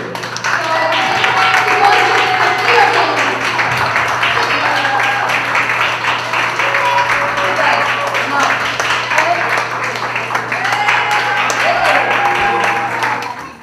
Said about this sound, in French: on donne une dernière main d'applaudissement à tous les gens qui ont participé aux jeux vidéo